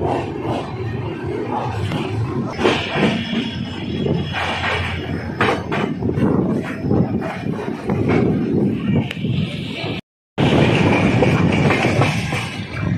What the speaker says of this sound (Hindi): Departure from Jalandhar city railway station.